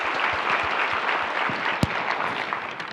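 A brief round of applause from an audience at a library literary award event, steady dense clapping throughout with a few sharper individual claps standing out.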